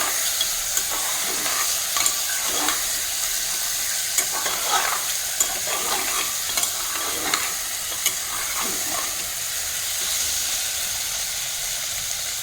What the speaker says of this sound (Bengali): চিকেনটাকে এখন আস্তে আস্তে এক মিনিট অন্তর অন্তর নাড়িয়ে কষিয়ে নিতে হবে